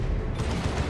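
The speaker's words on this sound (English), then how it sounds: "Lascannon got a good shot on the Vortimer there." Lascannon fire in Warhammer 40,000: Dawn of War 2 makes a loud, dense battle barrage of booming shots over rumbling combat noise with no pause.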